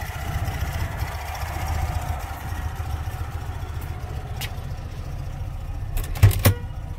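A Fiat 126p with its original 650 cc engine idles nearby, a steady low throbbing rumble that stays even throughout, with a couple of short knocks near the end and no talking.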